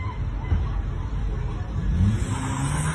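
A blue truck speeds through a chase with a continuous close engine roar and a rising whine. Background voices murmur underneath.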